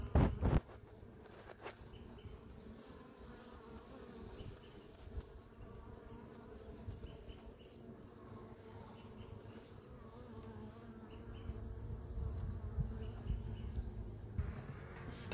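Honey bees in a bottle hive make a steady, close, low buzz for the whole stretch, with faint handling knocks at the start and end.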